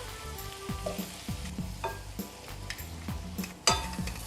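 Pieces of fried food hit a hot pan and sizzle, with repeated stirring scrapes and clinks of utensils against metal.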